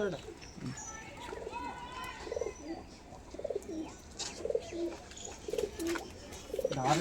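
Soft, low coos from a large pair of Kal Shira pigeons repeat in short rhythmic bursts nearby, mixed with someone talking and some faint chirps in the background.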